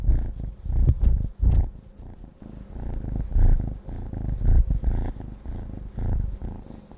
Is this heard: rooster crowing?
no